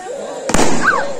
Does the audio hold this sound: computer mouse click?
no